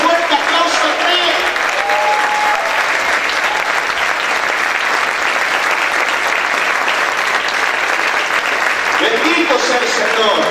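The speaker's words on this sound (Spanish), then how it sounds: "Voy a dar ese fuerte aplauso al Rey." Loud, sustained applause from a church congregation fills the space, steady dense clapping throughout with a voice speaking briefly at the start and end.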